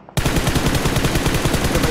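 Sustained rapid gunfire from a distant tower in PUBG Mobile, loud and steady with evenly spaced shots sounding alone for nearly two seconds.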